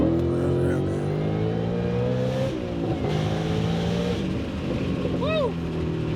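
An 870 hp 2026 Ford Mustang RTR Spec 5 accelerating hard, a loud, rising engine roar with climbing gear pulls and a brief shift, while a person talks over it from inside the car.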